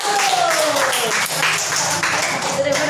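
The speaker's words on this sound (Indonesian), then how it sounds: "Oke, beri aplaus dulu" Applause from students in a classroom, a dense steady clatter of many hands that lasts throughout, with a voice audible over it.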